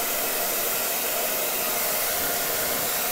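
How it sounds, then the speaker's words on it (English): An air blower runs continuously close to the microphone, a loud, steady rushing whoosh of air with no pauses or change in pitch throughout. "using a blower"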